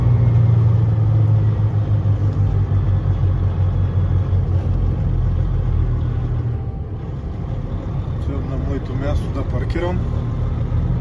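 A truck's diesel engine rumbles steadily at low pitch while it is being parked on a cold night in Wisconsin, with someone talking intermittently over the drone.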